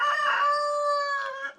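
A rooster crows once, loud and close, in a rabbit hutch area, its harmonic call holding steady before trailing off into a short cluck at the end.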